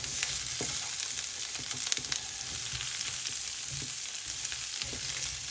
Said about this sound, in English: I want that frying actually